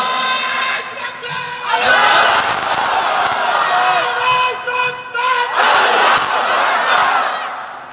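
A large crowd at a Bangla Islamic sermon (waz) roars takbir, 'Allahu Akbar', in two loud massed surges of voices, each lasting a couple of seconds, with a lower murmur between them.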